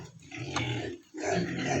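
Pigs in a backyard pigpen grunt and squeal in two loud, close bursts separated by a brief pause, with no talking over them.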